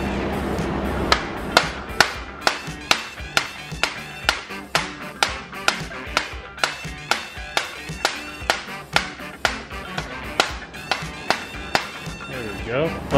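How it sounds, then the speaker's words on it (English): Rubber mallet tapping a Prinsu non-drilling roof rack onto a 5th gen Toyota 4Runner: a steady run of close, evenly spaced knocks, roughly two per second, with voices and background noise underneath. "If you need to, grab a rubber mallet."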